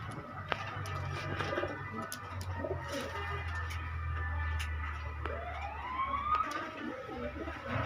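A Kamagar pigeon pair, male and female, coos softly and repeatedly over a low steady hum, while a rising, siren-like whine sweeps up in the background near the end.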